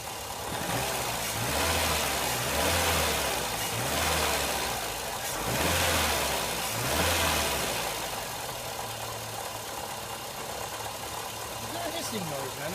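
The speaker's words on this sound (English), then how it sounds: "Let's give it some rev to see what it does." A Ford Escort engine, worked on after a throttle position sensor replacement, rises in a few swelling revs and falls back toward a rough idle, with a low throbbing running under it throughout.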